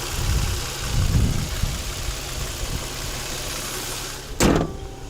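An Infiniti car engine idling quietly, a soft steady low rumble close by with a brief sharp click or knock near the end.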